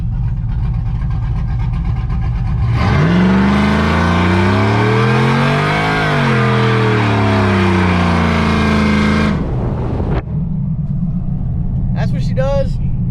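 A cammed Chevrolet Silverado with a cam-only build revs hard and accelerates, its engine note rising and falling through a long loud pull before cutting off, with a voice heard over the nearby roar.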